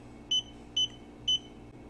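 An Apple Watch vibration motor near a microwave oven sounds as three short, evenly spaced high beeping buzzes over a low steady hum.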